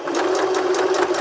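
Domestic sewing machine running steadily as it stitches over a fabric shoulder seam, a close, continuous motorized whir with a fast, even needle rhythm and no pauses.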